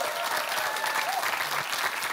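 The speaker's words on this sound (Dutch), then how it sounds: "Geef ze een groot applaus." Studio audience applause during a Dutch Lingo game show, a dense, steady wash of clapping that holds evenly for about two seconds.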